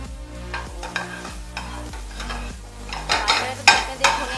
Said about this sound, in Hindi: बारीक कटा हुआ टमाटर डालेंगे